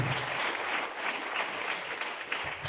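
Church congregation in Carapongo, Lima, Peru applauding steadily throughout, a dense even patter of many hands at moderate level with no voices on top.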